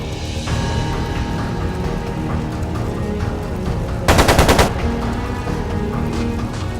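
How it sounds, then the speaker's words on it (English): Rapid machine gun fire rings out in the Trails of Cold Steel II video game, a brief loud burst of rattling shots over a busy game soundtrack. "It sounded like a machine gun."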